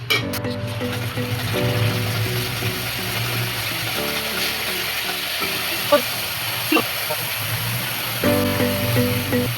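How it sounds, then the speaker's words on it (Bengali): Spices sizzle and fry in a pan while being stirred for a Bengali katla fish curry, a steady crackle with occasional metallic clinks of a spoon against the pan and a low background hum, no talking. "এবারে সব কটা মশলা ভালোভাবে কষিয়ে নিন যাতে কাঁচা গন্ধটা না থাকে"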